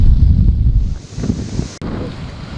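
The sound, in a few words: strong cyclone winds and rain, Cyclone Biparjoy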